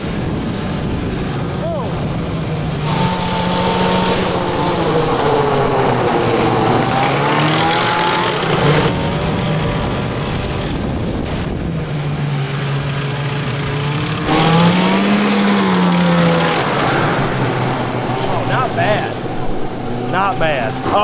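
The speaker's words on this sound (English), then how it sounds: "As long as I keep hearing it running and revving up" A Polaris Snowmoquad engine runs and revs, its pitch rising and falling in repeated surges, fairly loud and somewhat distant, with a steady drone throughout and speech-like sound mixed in.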